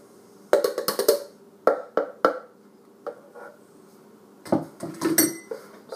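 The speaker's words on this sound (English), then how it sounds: "Grab myself a spatula. And I pull out the middle." A metal spatula clinks and scrapes against a baking pan of eggs in a kitchen, making sharp irregular knocks and rattles in clusters with short quiet gaps between them.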